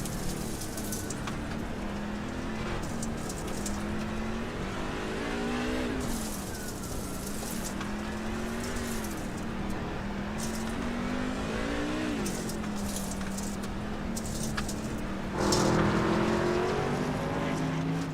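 Race cars in a heat on a GLSR track sweep through a corner with steady engine drone and rising, falling pitch as they pass, lifting and accelerating, with a louder surge near the end.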